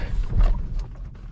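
Manual-transmission car lurching as the clutch is released too quickly in first gear from a stop, a loud low rumbling engine surge with a brief jolt, close and without talk.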